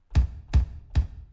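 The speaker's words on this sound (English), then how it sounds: "But this is a kick sound." Kick drum sample auditioned in Cubase, three deep, punchy thumps evenly spaced about 0.4 seconds apart, each with a short boomy low tail, heard alone and fairly loud.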